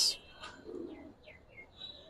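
Giribaz and coloured pigeons give soft coos and a few short chirps, faint and close, with a brief flutter at the start.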